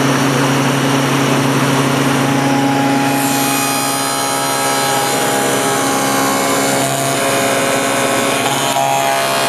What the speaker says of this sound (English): we push this all the way past the saw blade